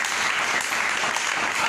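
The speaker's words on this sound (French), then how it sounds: "Applaudissons notre Dieu." A church congregation breaks into loud, sustained applause during a sermon, the dense clapping steady and unbroken throughout.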